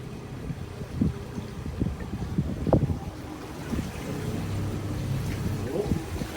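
A motorboat engine runs on a lake near Yellowknife, a steady low drone that swells in the second half, mixed with gusty wind buffeting the microphone and a few knocks and bumps.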